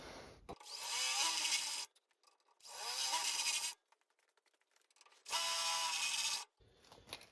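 A power drill bores holes while a Bosch router table is mounted in a Ridgid table saw, three loud, steady whirring bursts of about a second each, separated by short pauses with faint handling clicks.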